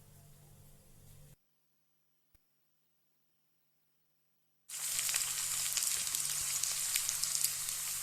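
Mustard seeds, dried chili, curry leaves and shallots hit hot oil for a tempering. A soft low hiss gives way to a brief silence, then a loud, crackling sizzle bursts in and holds steady to the end.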